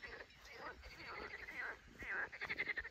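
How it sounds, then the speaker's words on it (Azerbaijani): Frogs croak by a dirty pond in faint, repeated rhythmic calls that overlap in a quiet outdoor background, growing into a quicker pulsing chorus toward the end. "Qurbağaların səsi də gəlir arxa fonda qəşəng."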